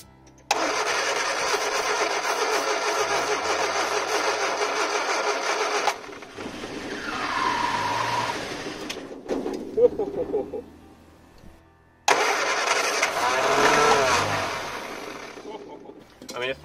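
An old Triumph Spitfire car engine, left sitting for 25 years, cranks and fires, running roughly in loud bursts separated by brief pauses, with clattery, uneven idling close to the microphone.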